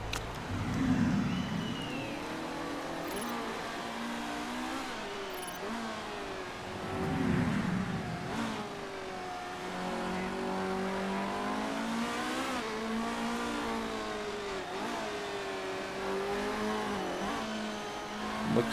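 Race cars on a test lap in the video game Motorsport Manager, engines rising and falling through gear changes as several cars pass near and far, a continuous loud whine with occasional tire noise and no talking.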